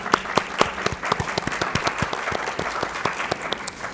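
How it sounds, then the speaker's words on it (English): A crowd applauds during a university State of the University address at West Virginia State University, with steady, fairly close clapping and sharp individual claps standing out, continuing for several seconds without speech. "Let's give them a round of applause."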